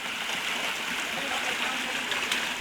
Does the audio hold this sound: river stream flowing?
yes